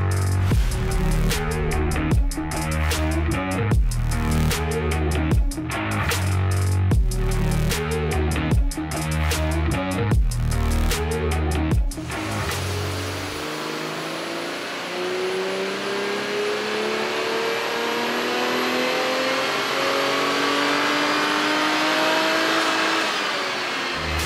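A Toyota Supra MkV with a K&N panel filter on a dyno revs hard through several loud, pulsing bursts. It then settles into a long, rising full-throttle pull with a high whine, close and with no voices.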